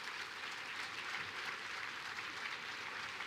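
Audience applause at a live debate on slavery reparations, a steady dense wash of clapping held at an even, moderate level throughout.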